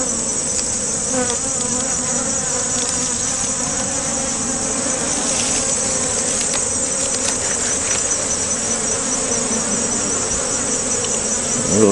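Honeybees buzzing around two hives sharing one house, a dense, continuous close-up drone of many insects that holds steady throughout with no speech.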